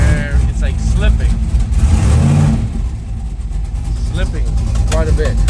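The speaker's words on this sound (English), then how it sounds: "we go first gear and we give it some gas, and it's like slipping" Car engine revving in first gear with a slipping transmission, a steady close engine drone swelling under throttle and easing off, with someone talking over it.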